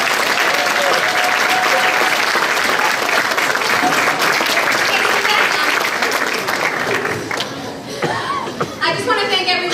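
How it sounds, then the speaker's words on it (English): Loud, sustained applause from a school audience for ninth-grade seminar presenters, with laughter and chatter mixed in, tapering near the end as voices come through. "so everybody could give them another round of applause"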